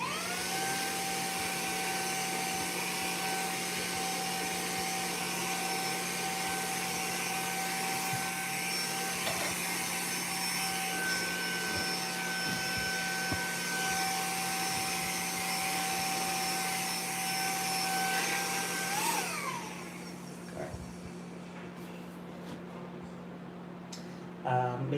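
A vacuum cleaner runs steadily and loudly while cleaning up a guitar workshop, its motor whine holding for about twenty seconds before it switches off and winds down, leaving a quieter room.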